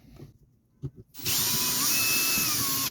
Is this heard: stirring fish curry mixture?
no